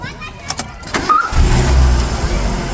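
A car engine cranks and catches partway through, settling into a loud, steady low rumble as people talk nearby.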